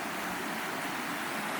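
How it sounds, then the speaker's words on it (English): Small waterfall and river stream beside a campsite in the Buckland Valley, heard as a steady, broadband rush of flowing water that fills the whole clip without pauses, fairly close and even in level, with no voices over it. "Little waterfall."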